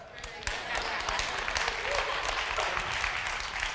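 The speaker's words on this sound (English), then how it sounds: "if you're going to clap, clap." A church congregation claps during a sermon, a dense burst of applause that swells in after half a second and holds steady, with a voice speaking faintly underneath.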